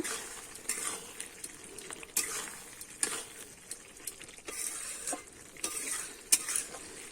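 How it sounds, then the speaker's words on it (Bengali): Fig curry with shrimp and potato is stirred in ghee in a pan, giving a steady sizzle and frying crackle with repeated scraping spoon strokes against the metal. No talking is heard. "এবারে কিন্তু আমি একটু নেড়ে নেব"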